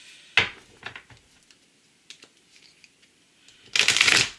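Oracle cards being shuffled by hand, with quick riffling bursts early on, a few soft taps and slides between, and a louder sustained shuffle near the end.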